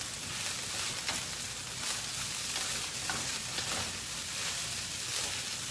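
Rice stir-fried with a little soy sauce in a pan, a steady continuous sizzle and scraping stir that stays loud and close throughout, with no talking.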